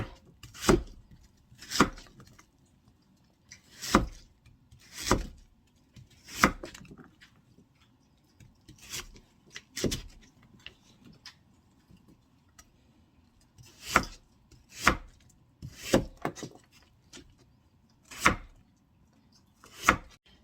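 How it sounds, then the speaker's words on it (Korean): Knife chopping cleaned sand lance fish into pieces on a cutting board: about a dozen sharp, distinct knocks at an uneven pace, close and clear against near silence. "잘손질해 놓은 양미리를 이렇게 먹기 좋을 크기로 잘라요."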